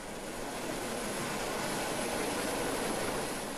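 A police rescue helicopter fitted with a winch roars in a steady, dense, unbroken drone, loud and close, with no voices over it.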